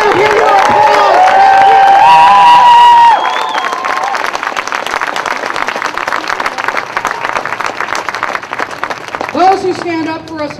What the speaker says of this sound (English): Let the governor hear your applause.